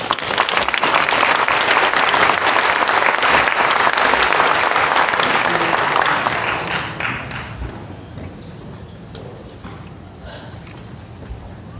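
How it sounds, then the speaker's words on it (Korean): A large audience at a Korean Presbyterian Day church event gives loud, dense applause to welcome a speaker, holding steady for several seconds before tapering off. "나오실 때 힘찬 박수로 환영하시겠습니다."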